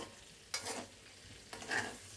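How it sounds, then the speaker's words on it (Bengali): Tengra fish curry cooking in oil over a low flame, with two short bursts of sizzling and stirring in the pan separated by quiet moments. "চুলা ঢিম করে তেলে ভাজা ভাজা করেছি"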